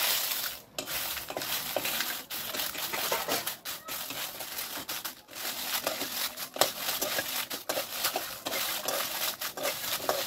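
Sankeshwari chillies and masala spices are roasted in a pan, with constant scraping and rattling of a spoon stirring them against the metal and a soft sizzle underneath, with no voices.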